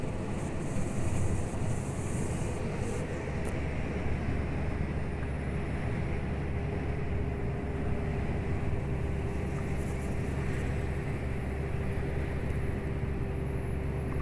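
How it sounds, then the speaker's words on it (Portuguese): Inside the cab of a heavily loaded Scania R440 6x2 truck grinding up a steep highway climb in 12th gear, a constant low engine drone and road rumble with a thin steady whine and no speech. "Adentramos a subida em 12ª marcha, modo de condução automatizado econômico."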